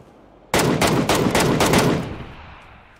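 Automatic gunfire in the battle royale game PUBG: a loud, close burst of rapid shots that starts abruptly, runs for about a second and a half, then trails off into a fading echo.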